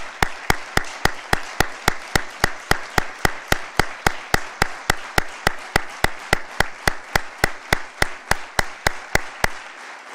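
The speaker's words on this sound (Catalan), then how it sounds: "m'agradaria que com a mínim féssim un fort aplaudiment per totes les famílies" An audience at a talk on the Son Coletes repression claps in slow, perfectly even unison for the victims' families, about three claps per second, steady and loud, ending abruptly.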